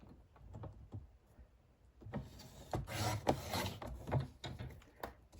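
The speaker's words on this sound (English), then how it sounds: "Let's hope this blade will cut properly this time." A craft blade slices through a corner of 6x6 patterned paper being trimmed for a mini criss-cross pocket card, giving close, quiet scraping strokes that build into a denser rasping cut near the middle.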